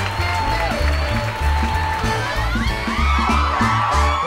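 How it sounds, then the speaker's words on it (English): A concert audience applauds and cheers over a band playing a steady rhythmic groove, whoops and shouts rising through the mix as the act is welcomed on stage. "give a great round of applause for Mizzah Tee"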